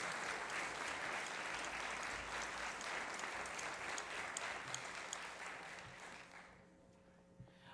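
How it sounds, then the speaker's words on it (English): Concert audience applauding performers at a March music concert, a dense steady roar of clapping that fades out over the last two seconds into near silence. "Let's have one more round of applause for all these people that have done this."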